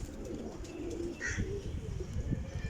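Soft coos of young flying pigeons rise and fall against a steady low background hum, with a few faint chirps, nearby and fairly quiet.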